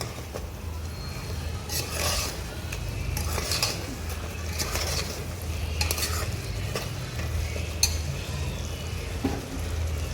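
A spoon stirs Kokani mutton curry in a pot, repeated scraping strokes over a steady sizzle of frying, close and fairly loud, with no talking.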